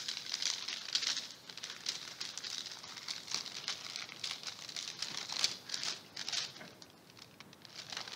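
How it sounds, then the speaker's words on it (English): A folded paper medicine leaflet is opened out, giving a steady, faint crinkling and rustling that goes on for several seconds, with no voices. "Well, I unfolded this paper,"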